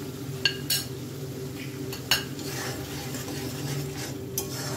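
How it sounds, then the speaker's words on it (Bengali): Spice masala for dum aloo with peas fries in oil under a steady low sizzle while a spoon stirs and scrapes the pan, with a few sharp metallic clinks against the pot. "প্রায় 1 মিনিট মতন হয়ে গেছে মশলাটা কষানো হচ্ছে"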